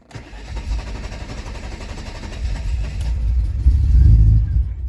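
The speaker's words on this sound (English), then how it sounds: "Crank it a little bit, and then it actually finally starts." Mercedes 190E with a starting fault cranks for a few seconds with uneven low churning, then catches and settles into a louder, rougher running rumble near the end.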